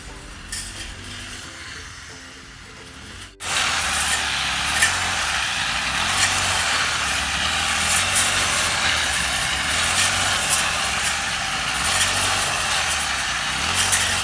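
An engine-driven grass cutter runs steadily, cutting sweet grass as buffalo fodder. A brief quieter stretch comes first, then the engine holds a continuous, fairly loud drone with small surges.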